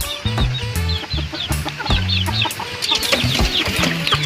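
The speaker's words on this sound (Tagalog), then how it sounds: "ito yung naglilimlim kong manok" Brooding hen clucking in a backyard coop at feeding time, a run of close, repeated low clucks and murmurs with other chickens chattering in the background.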